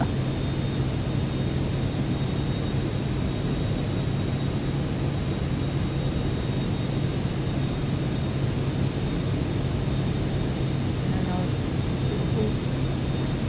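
Steady, unbroken drone of an airplane in flight in Microsoft Flight Simulator 2024, a constant broadband engine and wind hum with a faint high whine, unchanging throughout.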